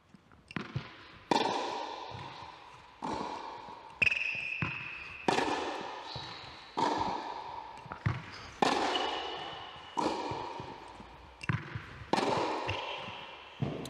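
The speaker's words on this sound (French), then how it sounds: "je vous fais quelques appuis ouverts sur balle haute" Tennis balls are struck with open-stance forehands on high balls on an outdoor court, giving a series of about a dozen sharp, ringing hits at a steady rhythm with short echoing decays.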